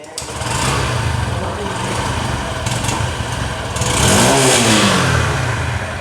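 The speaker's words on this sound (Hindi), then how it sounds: "चलिए अब यहाँ पर इसकी जो इंजन है उसकी एग्जॉस्ट नोट मैं आप लोग को सुना दूँ" A 125cc motorcycle engine idles with a steady buzzing exhaust note, then revs up sharply near the end and settles back down, loud and close.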